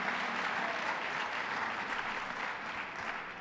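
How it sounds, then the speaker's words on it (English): A large crowd applauding at a Governor Andrew Cuomo announcement, a sustained, even roar of clapping filling the room with no talk over it. "let's give them a round of applause and thank them for what they do"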